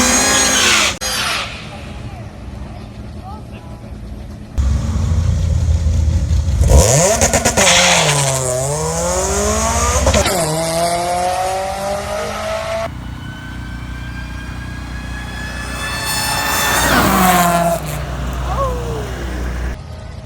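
A supercharged Honda D16 car makes a drag strip pass, its engine revving hard through repeated rising sweeps with gear shifts between them, loud and close and lasting throughout.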